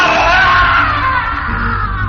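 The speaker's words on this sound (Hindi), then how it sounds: "उनके चीखने की आवाज इस बार घर के गार्डन से आ रही थी" A man screams in a horror story, his cry coming from a house garden: a loud, sustained, strained yell that holds for about two seconds and slowly fades slightly, with a low rumble underneath.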